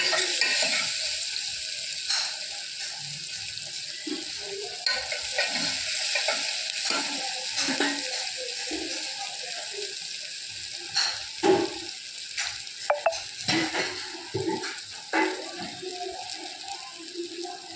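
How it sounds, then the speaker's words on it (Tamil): Tomatoes sizzling and frying in a pan with occasional stirring scrapes and clinks, a steady hiss throughout. "தக்காளி நல்லா வதங்கட்டும்."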